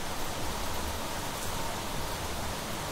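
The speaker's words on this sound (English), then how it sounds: "And it's raining, which is actually a good thing." Steady rain falls across a terraformed planet in the Planet Crafter game, a dense even hiss of drops with no other sounds.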